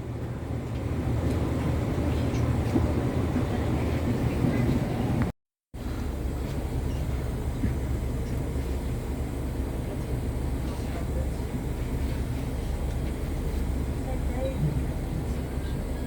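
Interior of a Chiltern Railways Class 165 diesel train arriving at Leamington Spa, a steady low rumble and hum of the running train continuing throughout with a brief cut of silence, as a voice talks over it.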